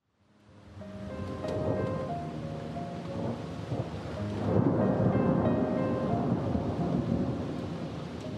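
Steady rain falls through a cold night with deep rumbles of thunder rolling underneath, the downpour swelling louder about halfway through and holding, with no voices.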